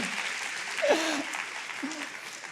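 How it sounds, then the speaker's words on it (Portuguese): A church audience applauds in a steady, dense patter of clapping, with a preacher's voice speaking briefly over it. "pode bater palmas para Jesus e para o marido também"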